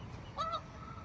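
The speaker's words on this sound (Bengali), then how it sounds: "শুনো ওরা কিভাবে ডাকে" A pair of short, faint honks from a goose at a lake, heard at a distance over steady low background noise.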